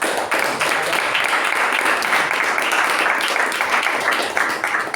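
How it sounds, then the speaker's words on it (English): A meeting room audience breaks into a sustained round of applause, thick continuous clapping at steady loudness throughout. "a great round of applause for the Master of Ceremonies"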